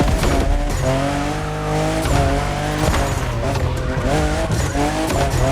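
A fifth-generation Toyota Supra races in The Crew Motorfest, its engine roaring loudly and steadily as the revs climb and fall, with tires squealing and skidding through the turns.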